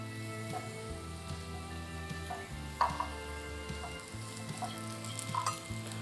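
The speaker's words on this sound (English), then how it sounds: "We want to stir fry quickly the parsnips." Parsnips stir-fry quickly in sesame oil in a preheated pan, a soft continuous sizzle with occasional stirring scrapes and a low steady hum underneath.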